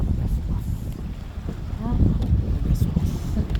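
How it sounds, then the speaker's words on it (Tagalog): Gusty wind rushes across an open lake on a cold day, steady and broadband with microphone buffeting throughout, while a voice talks intermittently over it. "Pagaspas ng hangin."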